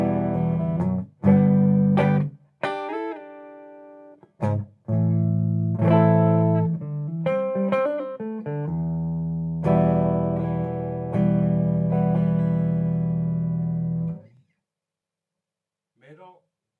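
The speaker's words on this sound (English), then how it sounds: "I'm using a Laney Lionheart 20 watt 1x12. No pedals, a little bit of reverb." A Tokai ES335 semi-hollow electric guitar on its neck pickup plays clean through a Laney Lionheart 20-watt 1x12 combo with a little reverb and no pedals, sounding clear sustained notes and chords that ring out, then fade to silence.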